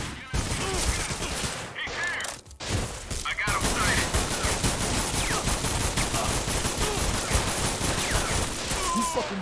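Sustained gunfire rages in a video game firefight: dense, rapid volleys of shots, loud and close, running almost continuously with only a brief lull midway.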